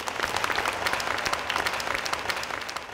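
A studio audience on a TV singing show breaks into applause, close, dense and continuous clapping for the full three seconds with a faint crowd murmur beneath.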